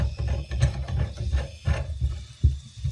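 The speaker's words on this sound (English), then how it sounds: "Lets me hold the valve, while this tool is a ratcheting in." A ratcheting tool clicks rapidly as it tightens onto the compression fitting of a toilet's wall supply line, with a steady run of close, crisp pawl clicks and no voices.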